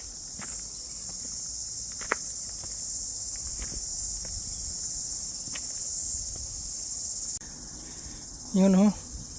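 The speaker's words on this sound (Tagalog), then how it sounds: "itong mga kuliglig" Crickets on Mt. Eden, New Zealand give a loud, continuous high-pitched trill throughout, with scattered footsteps and light ticks beneath and a short low hum near the end.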